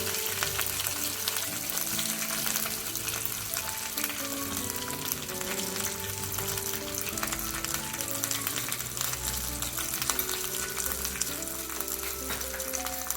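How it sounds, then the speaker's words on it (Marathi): Gram flour (besan) roasting in a pan for quick mini parathas, giving a steady, close, dense sizzle and crackle throughout with a low continuous rumble and no talk. "आणि हे आपल्याला खमंग भाजून घ्यायचं आहे"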